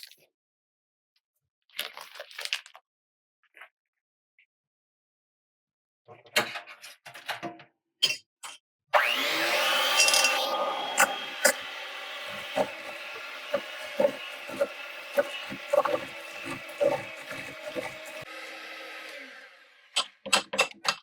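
Electric hand mixer beating banana bread batter with eggs and butter, a steady close whir running for about ten seconds after scattered kitchen clatter, then stopping.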